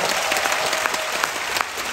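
Steady, dense applause from a concert audience during an encore, loud and continuous throughout with no pauses.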